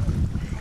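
Wind blows outdoors beside an inner-city creek as a brief, loud, low buffeting rumble against the microphone.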